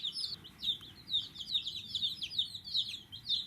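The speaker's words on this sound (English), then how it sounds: "otherwise they'll just be angry little chickens" Young chicks kept in a brooder pen give a steady run of high, repeated peeping and chirping calls. The sound is close and continuous, with faint low rumble underneath and no talking.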